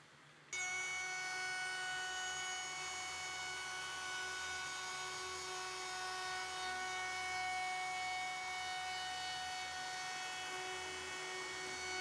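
A CNC machine cutting with a roundover tool starts up after half a second, then holds a loud, steady whine with layered tones over broadband cutting noise, with no talking.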